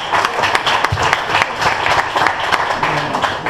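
An audience at a talk in a mercantile club hall gives dense, continuous applause, steady and fairly close, with many hands clapping at once for several seconds.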